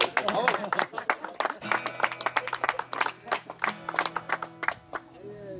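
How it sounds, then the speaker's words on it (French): Small audience clapping at a casual beer tasting gathering, scattered sharp claps in a loose rhythm with a low hum underneath and voices mixed in. "Donc vous pouvez m'applaudir avant parce que après je sais pas."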